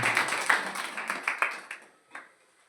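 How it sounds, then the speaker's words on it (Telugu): A church congregation claps in a burst of uneven hand claps that fades and thins toward the end, with one last short cluster. No one speaks over it. "చప్పట్లో కొట్టండి గట్టిగా."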